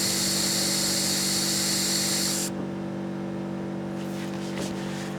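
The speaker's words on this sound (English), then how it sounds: "while I have my compressor going down here, I do just want to blow out this hose running back to the tank" An air compressor blows a loud, steady, hissing blast through the fuel hose running back to the tank on a UAZ, cutting off halfway and leaving a lower mechanical hum.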